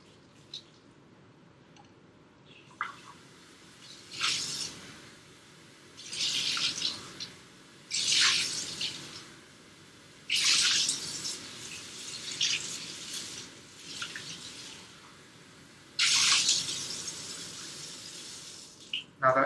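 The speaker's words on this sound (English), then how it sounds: "Now that you've rinsed it out a few times" Tap water runs in short, separate bursts into a laboratory sink while glassware is rinsed. Several splashy gushes come and go with quiet gaps between them, and no one speaks.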